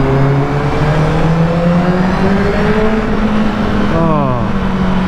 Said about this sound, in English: the Yoshi pipe on this bike is damn sweet